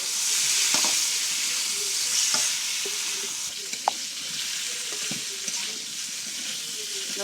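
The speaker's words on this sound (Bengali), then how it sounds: "পিঠাটা কষে নিচ্ছি।" Pitha stir-frying in spiced masala in a pan, with a constant close sizzle broken by occasional spatula scrapes and clinks, and no talking.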